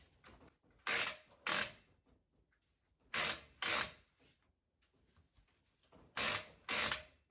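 A quilting frame roller ratchets as quilt backing is rolled up, making three separate bursts of two loud, close clicking pulls each, with quiet rustling between them and no talk.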